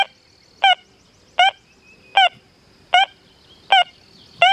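A Deus 2 metal detector sweeping over flat iron with silencer set to -1 gives six evenly spaced, warbling tone bursts, each short and clear against a quiet background hum.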